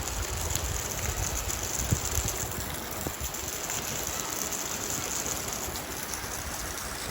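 Heavy rain pours steadily in a hot village setting, a dense, loud, unbroken hiss of drops drumming on surfaces with a faint watery rush beneath and no talking.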